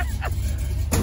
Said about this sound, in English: This is a loud ass car.